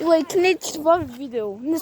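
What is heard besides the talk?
No distinct noise like a dog, phone or traffic.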